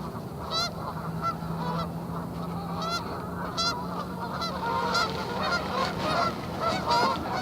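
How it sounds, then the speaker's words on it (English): Geese honk repeatedly on a morning by the water during a fishing trip, several loud calls overlapping in bursts above a constant background hum. "Geese are in a bad mood."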